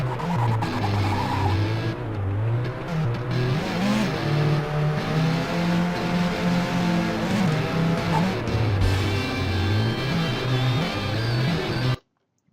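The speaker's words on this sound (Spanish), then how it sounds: "ya vemos que el coche derrapa de manera muy espectacular, a veces se vuelve incontrolable" A car in a Unity driving simulator revs its engine hard while drifting, with a loud wavering engine whine, repeated pitch sweeps and tire squeal throughout, cutting off abruptly at the end.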